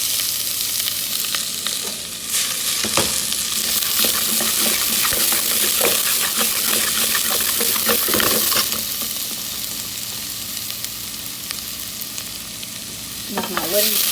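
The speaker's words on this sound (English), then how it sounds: "With my wooden spoon, stir it around, get these onions cooking beautifully." Onions fry loudly in a hot pot, a dense close sizzle with repeated scrapes and knocks of a wooden spoon stirring, easing slightly toward the end.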